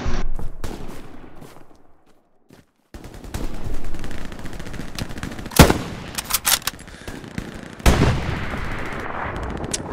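Gunfire in the World War II shooter Hell Let Loose: repeated sharp shots and bursts, loud and close, with a brief quiet gap followed by heavier firing and a couple of strong cracks.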